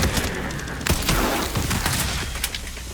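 Sniper rifle fire in the video game Resident Evil 9 Requiem during an intense station battle: a dense, loud barrage of sharp cracks and booms over a constant rumbling backdrop, several shots in quick succession.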